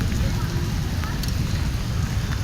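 Heavy rain pouring down on flooded Lahore streets, a dense, steady hiss of downpour, loud and close with no pauses.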